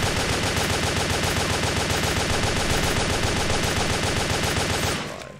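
An SMG fires in the PlayStation 3 game Wet as one long, loud, rapid burst of automatic fire that runs steadily for about five seconds before cutting off.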